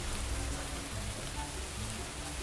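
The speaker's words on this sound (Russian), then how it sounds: "И шум, дождя, дождя, да." Steady hiss of falling rain in Garry's Mod, an even wash of patter without voices, continuous and moderately loud.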